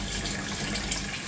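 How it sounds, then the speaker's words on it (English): Water pours steadily to freshen a home koi pond or IBC tank, a continuous dense gushing rush that stays loud and even throughout. "Just freshening up some of the water so it's nice and clean."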